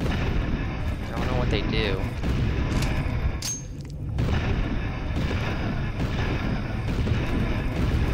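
Gunfire in the Lone Survivor video game: heavy, booming shots and rumbling blasts that continue almost without a break, with a brief lull partway through and a person talking over them.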